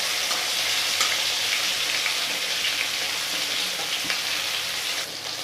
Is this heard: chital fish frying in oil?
yes